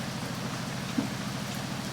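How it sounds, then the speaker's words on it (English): Steady heavy rain pours down while sailing off Sabah, Borneo, a dense continuous hiss of drops drumming on a surface, with no voices. "We've got heavy-ish rain."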